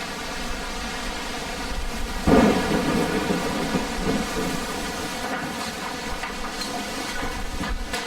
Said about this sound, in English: Finally, the rain comes.